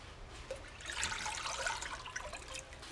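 Four cups of water pour into a large Dutch oven in a kitchen, a steady soft splashing stream that rises and falls for a few seconds, quiet and close.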